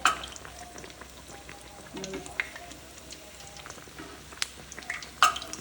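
Bread pakoras stuffed with potato frying in hot oil, a steady soft sizzle and crackle running throughout with a few sharper pops, close and moderately loud, no talking.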